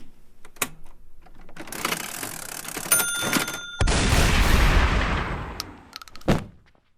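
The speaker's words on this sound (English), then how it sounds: "There's a bunch of hidden shotguns that fire at chest level from a pedal back here." Hidden shotguns triggered by a pedal fire in a video game, giving a loud, booming blast that trails off, with other sharp hits and mechanical noises before and after.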